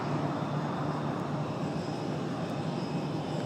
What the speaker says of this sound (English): As this United 737 gets ready for departure